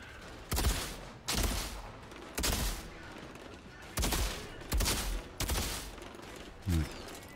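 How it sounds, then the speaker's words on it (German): Gunfire in the shooter video game Outriders, with about seven sharp, loud bursts spaced roughly a second apart over a quiet background. "irgendwas hat mir gerade noch in die Seite geschossen"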